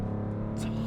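Maserati GranTurismo engine revving hard, a loud, steady low-pitched drone held through the moment with a brief higher whoosh partway, close to the cabin, with speech likely nearby.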